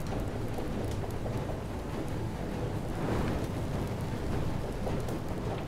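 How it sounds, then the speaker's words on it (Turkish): Steady, dense rain storm in the FAR: Changing Tides game, a loud continuous wash of rainfall with low rumbling swells, no pauses throughout. "Bu arada fırtına alanına çıktık."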